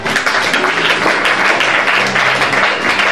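Church congregation applauding together, a loud, dense, continuous wash of clapping filling the room from start to finish, with a few voices faintly mixed in.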